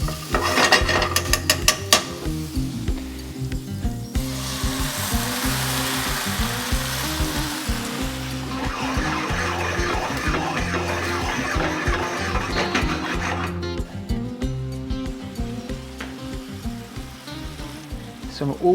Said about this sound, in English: Then I'll deglaze the pan with some white wine and the mushroom soaking liquid